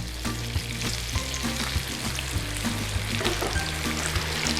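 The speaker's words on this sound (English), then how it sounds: "reintroduce our cauliflower pakoras back into our pan without getting splashed" Cauliflower pakoras frying in hot oil in a pan, a loud, steady, close sizzle and crackle throughout with small popping bursts and no voices.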